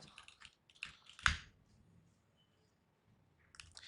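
A short burst of keystrokes on a computer keyboard while a terminal command is typed, with a sharp clack near the middle, then a quiet gap before a few more light taps.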